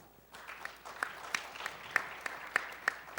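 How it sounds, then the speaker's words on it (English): Sparse audience clapping welcoming a panelist at a security forum, a handful of distinct claps spaced out and fairly quiet in a large room. "Please welcome him with a big round of applause."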